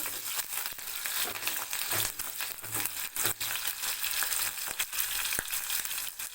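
Steady crackling sizzle of sambar onions and curry leaves frying in hot oil, dense and continuous with occasional sharper pops and stirring clatter, close by with no talking.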